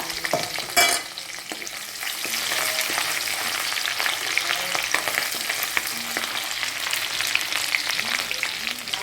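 Green chilli and a small piece of ginger fry in a pan for Indian-style macaroni, giving a loud, continuous close sizzle with a short clatter near the start.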